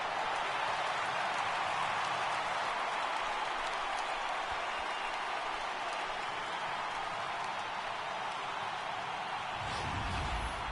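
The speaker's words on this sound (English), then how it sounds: "the home crowd has really come to life here in the bottom of the 8th" Home crowd cheering at a baseball game in a PS4 baseball video game, late innings after back-to-back home runs: a sustained, dense wash of applause and roaring from a large stadium crowd, steady and loud throughout.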